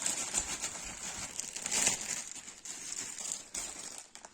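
Thin plastic crinkles and rustles in short bursts close up, as a separate bag of toilet parts is pulled open and handled during a toilet replacement, with no voices.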